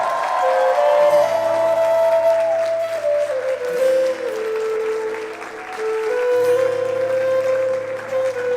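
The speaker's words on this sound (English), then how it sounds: "let's give a big round of applause and let's make some noise for the bride" A wedding crowd applauds and cheers for the bride, dense steady clapping with whoops throughout, loud and close, with a sustained musical tone running underneath.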